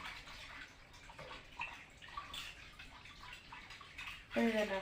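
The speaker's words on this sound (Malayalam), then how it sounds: "ഇനി നമുക്ക് പാലൊഴിക്കാം" Milk is poured into blended dragon fruit for a homemade juice, a steady splashing liquid stream that swells loudly toward the end, with a faint voice in the background.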